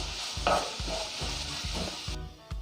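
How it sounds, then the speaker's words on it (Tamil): Onions sizzle steadily in a hot pan, sautéing toward golden for groundnut kulambu, while a spoon stirs and scrapes in a regular rhythm, close and fairly loud. "வெங்காயம் நல்லா வதங்கி பொன்னிறமாகணும், அது வரைக்கும் நல்லா வதக்கிடலாம்."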